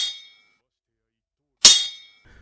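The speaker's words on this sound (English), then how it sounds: "all it sounded like was metal clanging" Two sharp metallic sword clangs from an anime fight: a ringing strike at the start, then a louder, bright impact after a pause. Each has a long shimmering decay.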